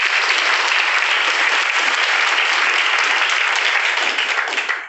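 Dense, steady applause from an audience at a Hindi business-plan seminar, loud and sustained for several seconds before tapering slightly at the end, with no talking over it.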